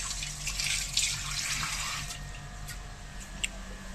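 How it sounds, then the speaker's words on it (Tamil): Curry leaves are rinsed under a running kitchen tap, giving a steady, close rush of water with slight splashy variations throughout. "கருவேப்பிலையை வாஷ் பண்ணிக்கிறாங்க"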